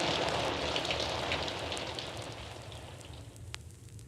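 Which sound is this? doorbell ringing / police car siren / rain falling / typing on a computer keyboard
rain falling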